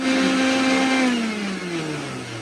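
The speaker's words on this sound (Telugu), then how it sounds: "ఇప్పుడు ఇందులోకి 2 స్పూన్ల పంచదార, 1 కప్పు చిల్లుడు మిల్క్ వేసుకొని గ్రైండ్ చేసుకోవాలి" A kitchen mixer grinder whirs loudly and steadily as it blends bananas, sugar and chilled milk into a milkshake, its motor pitch gradually sagging as the load thickens.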